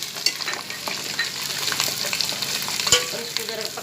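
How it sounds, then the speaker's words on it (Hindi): Chili and paprika powder sizzling as it fries in ghee in a pan for chicken nihari, a loud, steady crackling fry with stirring scrapes throughout and no talk. "और इसको ज़रा पकने दूँगी"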